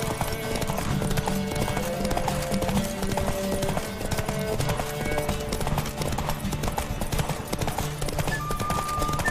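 Hoofbeats of a horse galloping flat out in a race in The Witcher 3, a steady rapid clip-clop running the whole way under game music and ambience.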